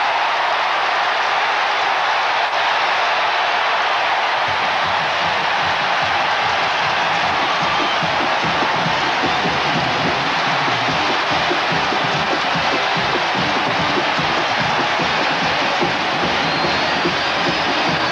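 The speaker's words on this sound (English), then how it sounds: "And listen to this crowd." College football stadium crowd cheering after a fumble in a 1991 game, a dense, sustained roar that swells after a quieter opening few seconds and holds at full volume to the end.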